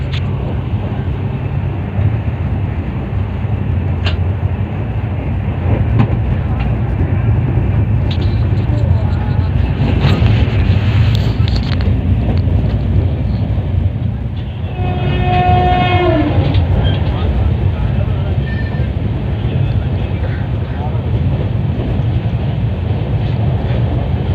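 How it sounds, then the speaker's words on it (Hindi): Onboard a WAP5-hauled Ranchi Shatabdi, a steady loud rumble of rolling wheels continues while the Howrah Rajdhani passes on the other track, and a horn sounds partway through. "हावड़ा राजधानी से क्रॉसिंग हुआ।"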